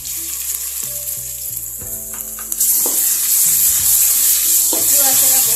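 Green chillies sizzling in oil as ginger garlic paste goes into the pan for bagara rice, a loud spattering hiss that swells midway, with a low steady hum and occasional stirring clinks.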